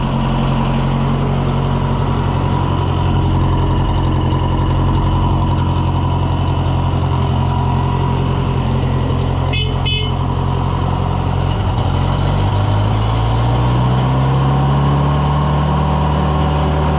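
A FIAT car engine runs steadily just after starting, with a loud, continuous low drone and the pitch rising slightly near the end, outdoors on a windy day.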